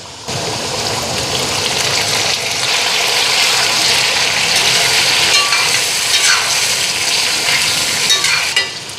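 Steady, loud sizzling of onions frying in hot oil, continuous throughout with occasional stirring scrapes, no voices.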